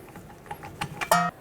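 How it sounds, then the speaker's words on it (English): Torque wrench tightening a rear upper control arm bolt on a 2006-2012 Ford Fusion, a few quiet ratcheting clicks that end in one sharper click, fairly close and faint. "Let's torque this to 81 foot-pounds as well."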